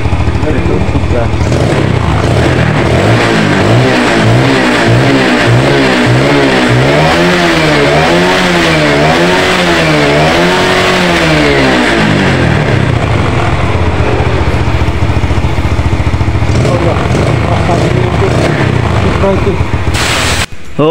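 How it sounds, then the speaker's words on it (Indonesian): A motorcycle engine that has just been tuned runs loud and close, revving up and down in repeated swells, then settling back toward idle while a person talks. "untuk motor si bapaknya sudah hidup dan sudah normal ya"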